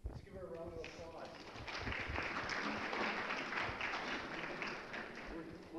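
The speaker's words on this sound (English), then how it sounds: "Let's give her a round of applause." After a talk on parvovirus in dogs, a classroom audience breaks into applause that builds and holds steady, with a voice speaking briefly at the start.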